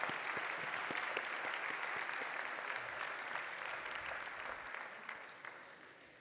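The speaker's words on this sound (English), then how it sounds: "We can clap." Steady applause from a graduation commencement audience fills the space, a dense even patter of many hands clapping at a distance, fairly faint and fading slightly toward the end, with no voices.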